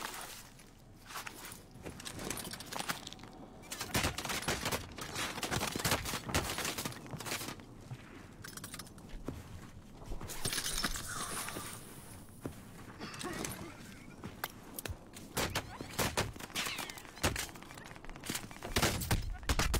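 Video game gunfire crackles in scattered bursts and sharp shots among footstep-like thuds, moderately close and varying in loudness over the whole stretch, with a player's voice talking at times.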